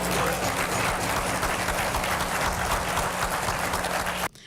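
Audience applause during a Prime Minister's address in the Bahamas, a dense, steady roar of many hands clapping close and loud throughout, cutting off abruptly near the end.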